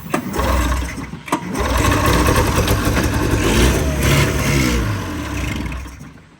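An Arctic Cat 370 ATV engine sputters and runs roughly after a pull start, a loud close rumble with a brief catch before it settles into a wavering idle.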